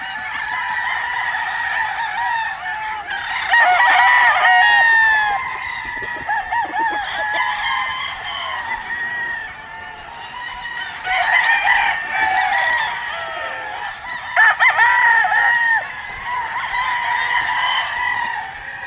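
Young pullet chickens on a farm cluck and squawk nearby in repeated busy bursts, with a rooster crowing among them and the calls rising and falling over steady flock chatter.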